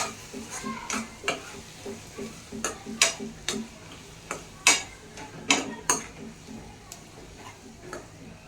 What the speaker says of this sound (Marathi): तर जे आपण मसाला तयार करायला भाजून घेतलं होतं ते ह्याच्यात घालून घ्यायचं आपल्याला फ्राय करायला.